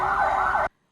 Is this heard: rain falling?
no